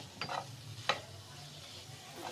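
A spoon stirs steak sauce into a minced meat filling in a pan, giving a few soft scraping clinks over a low background sizzle.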